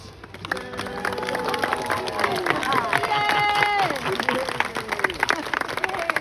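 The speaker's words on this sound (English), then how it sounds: "a big round of applause" A crowd at a sideshow claps and cheers in a lively burst of applause, with voices calling out and tonal sounds mixed in.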